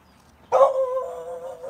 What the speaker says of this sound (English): You stop barking at people.